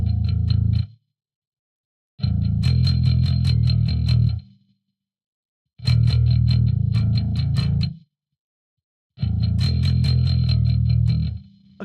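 Electric guitar through an amp's clean channel with chorus effect, played in four separate sustained strummed phrases separated by brief silences, loud and close with a shimmering, wavering tone.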